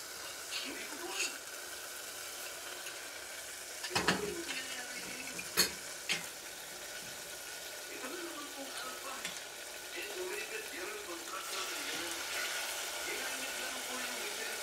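Steady, faint sizzle of beef frying in a pan for bistek Tagalog, with a few sharp clinks and scrapes from stirring around the middle.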